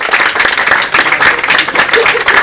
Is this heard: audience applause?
yes